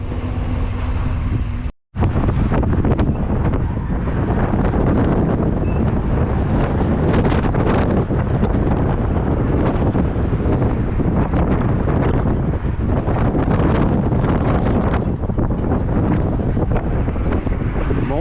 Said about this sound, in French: Comme vous le voyez, le vent est complètement en ma faveur.